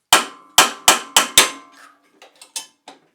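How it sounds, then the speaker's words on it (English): A hammer taps a kart engine flywheel loose from the motor: five quick, loud metallic knocks ringing close, followed by a few lighter clinks and a softer tap as it comes free. "once I get started with the hammer, it's hard to stop"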